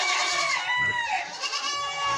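A baby goat bleats loudly and close, one drawn-out wavering cry.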